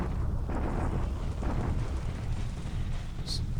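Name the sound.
artillery bombardment explosions in video game War in the Pacific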